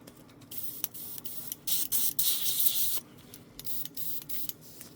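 A spray gun blasts cleaner through an airbrush during cleaning, giving a steady airy hiss that swells louder for about a second in the middle before settling back to a quieter spray, with no voices.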